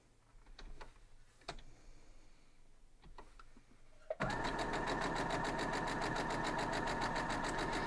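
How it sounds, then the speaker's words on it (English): A sewing machine stitches straight down a quilt block, running loud and steady with a rapid rhythmic ticking for the last few seconds, after a quieter stretch of faint taps and clicks. "We're just going to sew it straight down."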